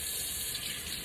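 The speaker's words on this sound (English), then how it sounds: "You'll want to wash this with soap, but make sure you leave the skin on." Tap water runs steadily from a kitchen faucet as a red potato is rinsed under it, a constant hissing splash with no talking.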